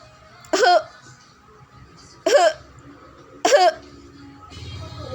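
Three separate coughs, each short and forceful, spaced about a second apart against faint background noise.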